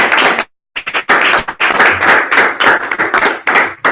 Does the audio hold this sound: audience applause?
yes